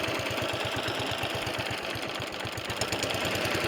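Nearby, the small engine of a vintage cylinder lawn mower runs at lowered revs, firing in a rapid, regular knock that stays steady and fairly loud, with no one talking.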